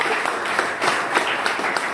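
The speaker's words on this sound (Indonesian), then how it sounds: "Tepuk tangan dulu buat Pak Pani dan Bu Pani." An audience clapping at a stand-up comedy show, lively close applause with distinct individual claps standing out over a steady bed of hands, lasting about two seconds.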